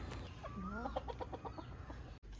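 Hens shut inside a farm coop give a close run of rapid, rising clucks and squawks, eager to be let out, followed by a quieter pause and a brief knock.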